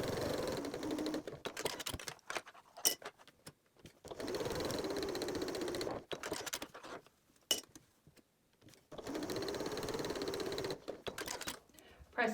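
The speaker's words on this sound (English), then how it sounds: "Now you'll sew each of these seams together using a 1/2 inch seam allowance." A sewing machine stitches fabric seams with a 1/2 inch seam allowance, running in three steady whirring bursts separated by short pauses with small handling clicks in between.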